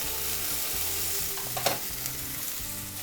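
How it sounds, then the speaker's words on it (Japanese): Bean sprouts stir-frying on high heat in a frying pan with oil, a steady crackling sizzle, with a few louder scrapes and tosses near the middle. "でもやしが入ったらこの強火で30秒炒めていきます。"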